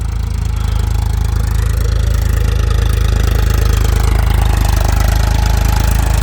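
A tractor engine pulling a potato planting machine runs steadily and loud throughout, a close, constant low mechanical drone with a rapid chugging pulse and no talk.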